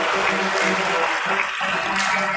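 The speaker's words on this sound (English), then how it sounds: "Big round of applause." Applause from an audience at a stock exchange listing ceremony gives a steady, dense patter of clapping, with faint voices mixed in beneath it.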